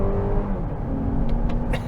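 A 2023 Lexus RX 500h F-Sport hybrid SUV accelerates hard under full throttle, a steady close engine and road roar with rising whine throughout, no talking.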